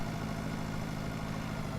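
A smaller farm tractor's engine idles in Pure Farming 2018, giving a steady, even low rumble that holds at one level throughout with no voices.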